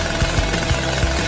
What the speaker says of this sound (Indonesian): Oh, gergaji mesin itu pasti akan membantuku.